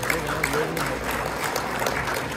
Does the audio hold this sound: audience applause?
yes